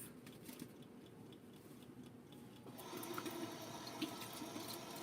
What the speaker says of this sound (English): I'm going to rinse them off